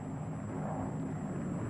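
Steady low droning hum of a Lockheed P-38 Lightning fighter airplane engine, a continuous rumble at moderate level with no distinct changes, heard alone.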